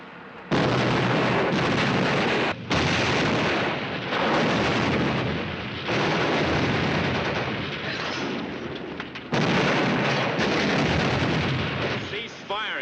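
Tank gun firing high-explosive shells in a war film battle scene: loud booming blasts with sustained rumbling roar and gunfire, nearly continuous with brief pauses, shouted voices mixed in.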